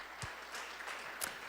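A short burst of clapping from a church congregation, fairly quiet and lasting barely more than a second, with a few sharper claps standing out.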